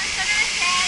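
A fountain at an Italian amusement park sprays and splashes water in a steady, close, broadband rush, with faint talk in the background.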